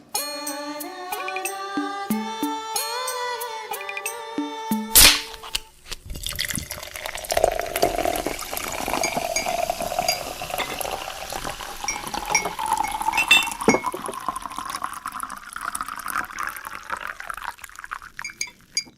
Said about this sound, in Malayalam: നുരഞ്ഞു പതയുന്ന സോഡ കുപ്പിഗ്ലാസ്സിലെ ഉപ്പ് ചേർത്ത നാരങ്ങാനീരിൽ ചേർത്ത്